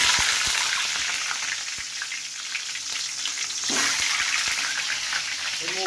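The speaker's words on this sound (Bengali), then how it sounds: "এখন ডিমটা আমি ভেজে নেব সরিষার তেলে।" An egg fries in hot mustard oil, giving a steady, close hiss and crackle throughout, with a few light clicks from the pan.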